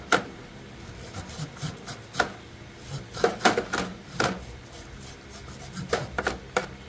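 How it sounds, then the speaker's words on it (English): A sweet corn cutter rasps kernels off an ear of corn in a string of short, scraping strokes with uneven pauses, fairly close and moderately loud, with no voices. "Cutter, sweet corn cutter, and we cut all the kernels off."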